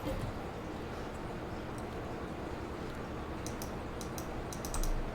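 Quiet computer keyboard typing with a cluster of crisp key clicks near the end, faint over a steady background hum during a Farming Simulator 22 session, with no speech.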